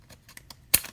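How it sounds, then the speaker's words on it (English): Long-bladed scissors chop through a thick stack of paper layers in a few soft, quiet snips, ending in one sharper, louder crunching cut near the end. "this is cutting through many layers, so it's kind of difficult"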